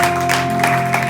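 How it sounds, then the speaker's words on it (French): An audience in a church gathering applauds steadily at close range for a brief moment, with a faint tonal hum running underneath and no speech. "acclamons le Seigneur"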